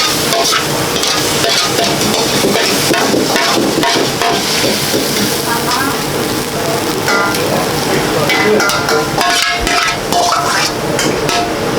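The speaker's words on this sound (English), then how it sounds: "Stir-fried liver and garlic chives." Liver and garlic chives stir-fried in a busy ramen shop kitchen: loud continuous sizzling with rapid scraping and clanking of utensils against the pan, and faint voices underneath.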